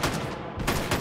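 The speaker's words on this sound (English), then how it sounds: "They're shooting at my legs." Rapid gunfire in the VR shooter Hot Dogs, Horseshoes & Hand Grenades, a loud close burst of shots with a short gap midway before firing resumes.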